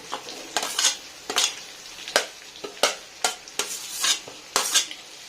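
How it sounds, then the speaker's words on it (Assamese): Pumpkin and pork fry together in a pan under a low sizzle while a utensil stirs them, making repeated loud scraping clanks against the pan in irregular bursts. "ৰঙালাওখিনি দি এতিয়া অকণমান মিক্স কৰি লৰাই অকণমান লৰাই দিলোঁ।"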